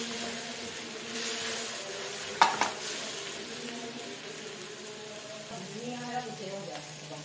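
Potatoes, eggplant and onions fry in a pan with a steady, moderate sizzle, a brief clatter of stirring partway through, and someone talking over the cooking.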